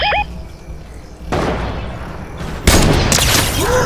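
Shooter video game gunfire: sharp bursts of shots and booms in quick succession, loud and close, with a brief synthetic tone at the start.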